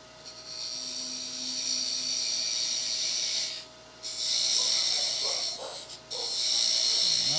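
A wood lathe turns a tenon on a workpiece in a wood shop, its steady high whine from the spinning stock interrupted by two short pauses, each followed by the cutting resuming at similar strength.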